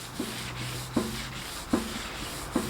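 Very fine 2000 grit sandpaper rubbed by hand on a car bumper makes soft, regular rasping strokes, about one every three-quarters of a second, close and quiet.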